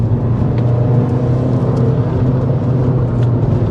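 A Skoda Fabia vRS diesel hot hatch pulls hard in third gear, its engine a loud, steady drone with rumbling road noise throughout and no talking.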